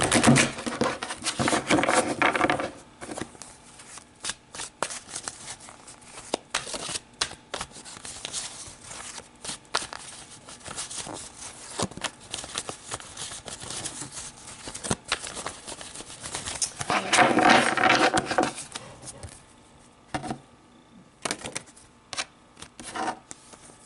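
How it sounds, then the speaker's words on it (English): Tarot cards are shuffled by hand, close and soft, with two louder bursts of riffling near the start and later, amid continuous light rubbing and tapping with no talk. "So let's pull some tarot cards to see how this energy between you and your ex plays out"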